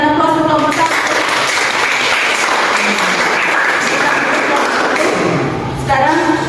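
Classroom of students applauding a presenting group, a dense, steady wash of many hands clapping that fills the room for several seconds, with brief voices at the start and end.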